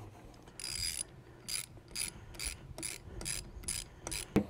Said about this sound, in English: Now we're going to remove the three bolts from this end.